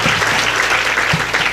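An audience at a Devi Bhagwat Katha religious discourse claps steadily for a sustained stretch, a dense, close burst of applause with no speech over it.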